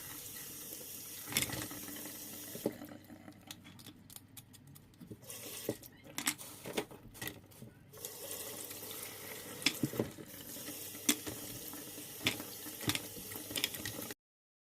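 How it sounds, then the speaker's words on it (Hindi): Mussels are washed under a running kitchen tap, with a continuous hiss of water filling a sink and shells clattering and rattling as they are rubbed and moved about close by. "इतने सब मैंने धो दिए"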